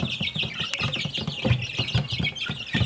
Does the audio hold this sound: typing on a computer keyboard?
no